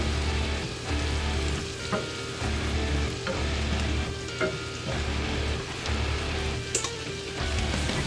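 Two cloves of minced garlic fry in a stick of unsalted butter in a pan, a steady sizzle with a rhythmic stirring scrape that pulses about every second, and no voices.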